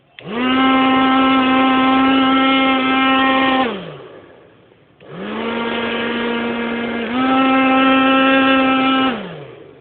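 A faulty, noisy hair dryer runs twice, close and loud, with a harsh droning whine that shifts pitch partway through and then winds down each time it is switched off.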